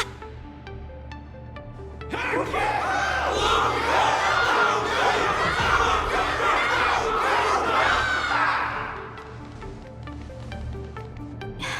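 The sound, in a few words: crowd cheering, from a video game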